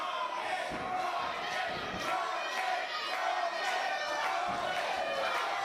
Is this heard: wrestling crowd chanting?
yes